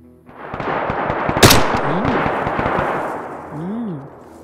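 One sharp, loud gunshot cracks out in the survival video game DayZ, leaving a short reverberant tail under a steady wash of game ambience, while a voice talks over it.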